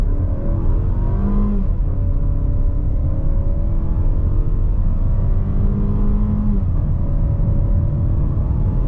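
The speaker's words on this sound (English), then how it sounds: "0 to 60 in the Mazda CX-5" A 2025 Mazda CX-5 with a six-speed automatic pulls hard from a standstill to 60 mph in sport mode at altitude, its engine droning loud and steady from inside the cabin as the pitch climbs, drops briefly at each upshift, then rises again.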